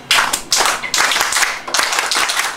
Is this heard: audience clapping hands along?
yes